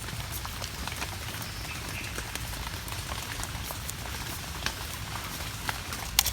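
Rain falling steadily in a forest during mushroom foraging, a dense, even hiss of drops with scattered nearby taps and a few sharper drips toward the end, no speech.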